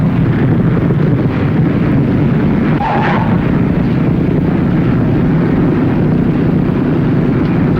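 A 1950-era airplane coming in to land with full flaps and power off gives a steady loud roar with heavy wind rush, continuous and close throughout.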